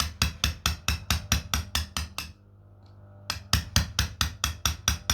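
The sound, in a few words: hammer striking slate stone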